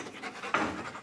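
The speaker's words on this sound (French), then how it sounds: "Le chien recherche d'éventuelles substances qu'il a été entraîné à repérer." A police drug-sniffing dog pants in quick, rhythmic breaths close by during a search of a high school, with no voices over it.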